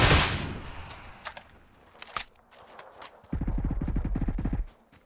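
Gunfire in PUBG on the Vikendi map, a rapid burst of shots near the end following a few scattered single cracks, with no talk over it.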